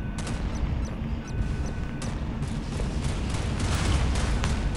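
Bombing explosions sound in the naval combat game Modern Warships, with repeated booming blasts and crashing bursts over a dense, rumbling battle background, and no voices.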